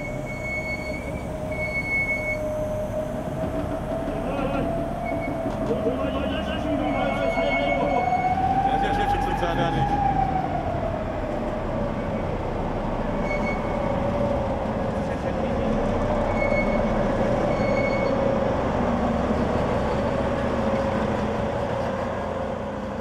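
A model railway steam locomotive, number 94 1538, rolls into its storage shed with a steady rumble of wheels and a drawn-out metallic squeal of flanges on track, heard continuously at close range.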